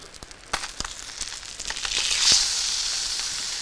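A sea bass fillet fries skin-side down in a hot pan with a close, steady sizzle. Sharp crackles pop through it, and the hiss swells louder toward the end.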